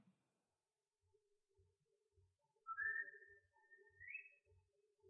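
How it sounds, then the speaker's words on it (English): A faint whistled melody rises and glides over soft, low background music, quiet and distant, in the overture of West Side Story (1961). "Got the whistle."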